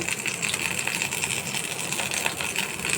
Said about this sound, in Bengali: এখন ভেজে নেব দেখুন জিরাগুলো আমার ভাজা হয়ে গেছে